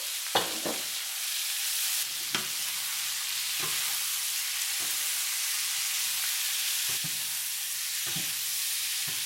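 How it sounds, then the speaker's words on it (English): Cumin beef stir-fried with sauce in a pan, a constant loud sizzle with periodic scraping knocks of a utensil stirring through the meat, and no voices. "Mix everything in."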